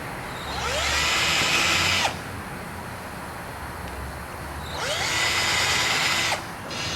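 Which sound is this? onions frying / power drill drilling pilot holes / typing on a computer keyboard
power drill drilling pilot holes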